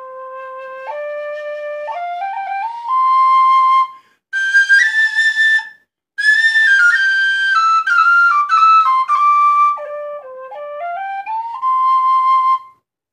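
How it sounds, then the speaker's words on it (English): An unmodified Irish tin whistle, played regularly since around 1980, carries a clear solo melody of stepped notes and ornaments, loud and close, with short pauses between phrases. "I've been playing this whistle regularly since I got it new around 1980"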